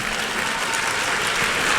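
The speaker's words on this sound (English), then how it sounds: "If you have decided to clap, clap enthusiastically." An audience applauds at a spiritual talk, a dense, steady wash of clapping that holds at an even level throughout and swells slightly at the close.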